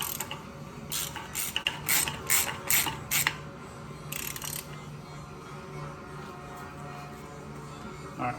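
Ratcheting clicks come in quick bursts as a wrench tightens the Jackson nut on the front axle of a 1996 Ford F-350, close and distinct, then give way to quieter mechanical shuffling.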